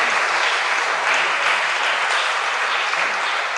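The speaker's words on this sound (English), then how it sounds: "Let's give the Lord a hand clap praise." A church congregation claps in continuous, dense applause that stays steady and loud throughout, with no voices standing out.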